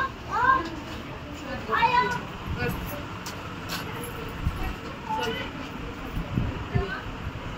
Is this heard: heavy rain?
no